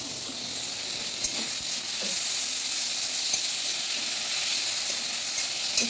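Tomato cooks in a pan with very little oil and starts to stick, giving a constant close hiss and sizzle with faint stirring ticks and no voices.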